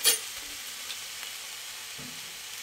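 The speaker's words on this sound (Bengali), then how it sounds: "এবার একটু নাড়বো।" Egg chow mein with soy sauce and vinegar is stirred in a hot pan: a soft, even sizzle runs throughout, with a sharp utensil clank at the start and a brief scrape near the end.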